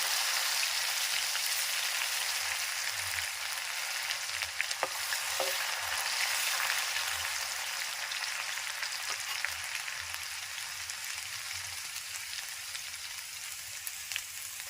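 Garlic paste hits hot oil already crackling with popped mustard seeds and cumin, giving a steady, dense sizzle with a few faint clinks, fairly close and even throughout, with no voices.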